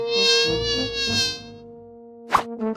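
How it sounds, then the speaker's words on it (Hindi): A housefly buzzes close by in a sustained whining drone that fades out, followed by a brief louder buzz as it passes again. "ओह, यह क्या है? मक्खी कहाँ से आई?"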